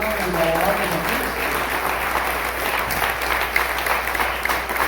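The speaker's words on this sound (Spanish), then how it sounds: "Damos aplausos al Señor, hermanos, y alabamos a Cristo." A church congregation claps together in sustained, dense applause, a steady wash of many hands filling the room from start to finish.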